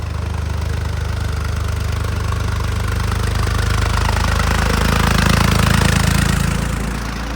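Tractor engine running steadily on a mountain route, a loud, constant low rumble with a rough chugging texture that swells slightly near the end, with no talk over it.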